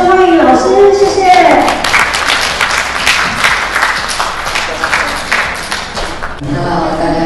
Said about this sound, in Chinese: 我们热烈的掌声欢迎老师